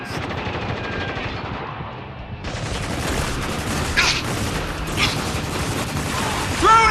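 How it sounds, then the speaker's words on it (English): Machine-gun fire rattles through a battle in Spec Ops: The Line, a steady loud stream of rapid shots with a couple of heavier bangs and a little talk under it. "Where is that guy shooting?"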